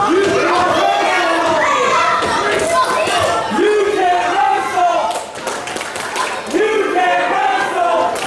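A wrestling arena crowd roars and shouts around the ring, with rising cheers, scattered claps and thuds in a loud, dense wash, and talk mixed in.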